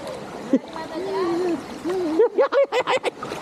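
A person dives into cold water, giving a splash amid a choppy stream of short watery bursts, while people shout and talk excitedly close by.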